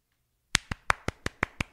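At a church sermon, eight sharp, evenly spaced hand claps ring out close and loud after a brief silence, a single steady rhythm rather than scattered crowd applause, with no voices.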